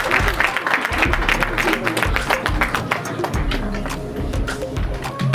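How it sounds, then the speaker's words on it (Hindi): An audience applauds at a teachers' award ceremony, a dense, steady patter of clapping that carries through the whole stretch, filling the room without letting up. "तालियां बिल्कुल तालियों का गड़गड़ाहट होनी चाहिए।"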